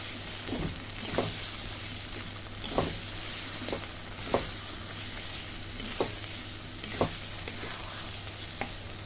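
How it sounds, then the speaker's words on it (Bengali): Lote fish sizzling in a pan with softened chopped tomatoes, a steady low frying hiss broken by a regular series of sharp stirring scrapes and clinks about every second. "এবার আমি দিয়ে দেবো এর ভেতরে ছাড়িয়ে রাখা মাছগুলো।"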